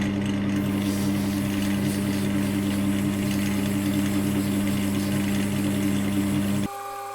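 A pen blank spins on a lathe under steady sanding, a constant hum and hiss with a motor drone that runs evenly for several seconds before cutting off near the end.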